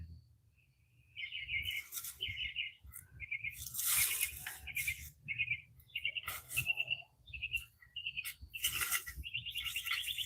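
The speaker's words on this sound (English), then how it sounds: "And I like the sound of the birds" Songbirds chirp and trill in a flower garden, short bright bursts repeating in quick runs at moderate distance over a low background hum, with no talking.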